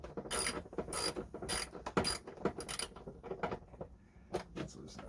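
Ratchet wrench loosening a 10 millimeter bolt during a car air filter change, with repeated quick clicking bursts at close range that thin out toward the end.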